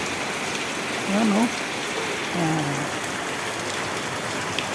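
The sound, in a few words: heavy rain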